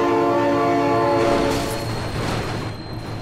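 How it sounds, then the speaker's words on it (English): In the BeamNG Drive driving game, a train sounds a loud, sustained horn as it passes close by, the blare fading into rumbling rail noise. "Oh my god, train!"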